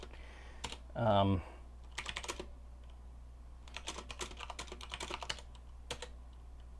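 Typing on a computer keyboard while coding in Visual Basic 1.0, with scattered bursts of close key clicks and a brief spoken word near the start.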